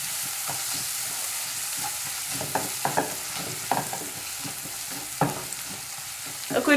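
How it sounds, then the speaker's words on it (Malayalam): Chicken liver fry with black pepper and ground roasted fennel seed being stirred in a hot pan: a steady loud sizzle with repeated scraping and clacking of the spoon against the pan. "ഇനി ഇത് എല്ലാം കൂടി നന്നായിട്ടൊന്ന് ഇളക്കി കൊടുക്കാം"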